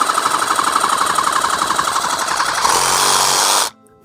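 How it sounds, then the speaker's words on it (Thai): A Dewalt DCS312N cordless reciprocating saw cuts through pipe in a tight space, a loud, steady buzzing rattle for most of the stretch that cuts off sharply near the end, leaving a faint hum. "ถ้ามี เลื่อยชักแบบนี้นะครับ DCF 312ก็จะช่วยให้เราทำงานได้ง่ายยิ่งขึ้น"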